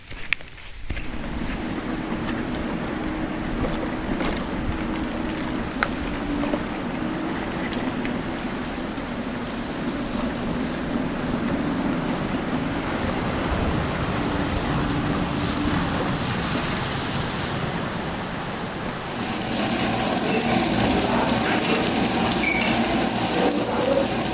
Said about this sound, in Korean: 비가 오고 있습니다.